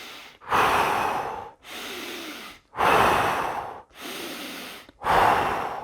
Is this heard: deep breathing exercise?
yes